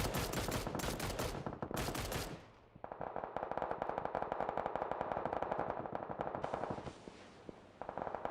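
Gunfire from the PUBG battle royale video game during an esports event: loud, rapid automatic bursts up front, then a long stretch of sustained rattling fire with distant shots and echoes layered underneath.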